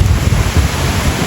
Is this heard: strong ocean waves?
yes